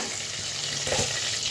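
Fried magur catfish pieces are lifted one by one from hot oil in a pan, with a steady, close, loud sizzle and a brief rise in crackle midway.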